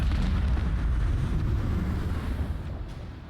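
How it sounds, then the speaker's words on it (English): Dorsal macro cannons fire from a starship in the Rogue Trader video game. Deep, rumbling blasts roll together continuously and slowly fade toward the end. "fire the dorsal macro cannons"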